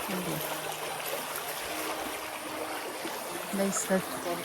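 A small stream flows in a steady, broadband rush of water, close and continuous, with faint voices murmuring underneath.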